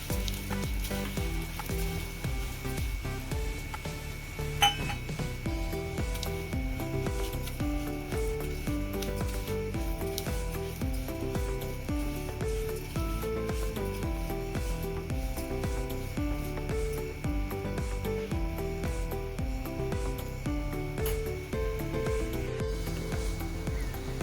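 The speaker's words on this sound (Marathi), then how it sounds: "त्याच तेलामध्ये मी लापसी टाकते. लापसी आपल्याला छान थोडी भाजून घ्यायची 5 मिनिटं" Broken wheat (lapsi) roasting and being stirred in hot oil in a pan, giving a steady, even sizzle close up that runs throughout, with faint scraping and a steady background hum.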